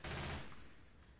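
Rapid gunfire from players shooting in the multiplayer horror game SCP: Containment Breach, a short, fairly faint burst of automatic shots that cuts off quickly and leaves a fading tail.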